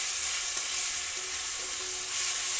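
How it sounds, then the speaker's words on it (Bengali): Crushed ginger and garlic fry in a pan, a steady close hiss and sizzle with no talk. "আদা রসুনটা ভালোভাবে ভেজে নিতে হবে"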